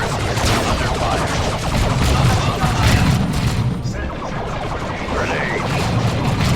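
Combat in Warhammer 40k Dawn of War 2 brings dense, continuous gunfire with bursts of automatic fire, booms and crashing impacts. The din stays loud and steady throughout, with faint game voices mixed in.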